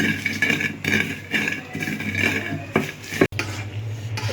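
Plum pickle with fried dry chilli and panch phoron is stirred in a pan, giving a steady scraping and clinking with soft sizzle and a few sharp utensil knocks.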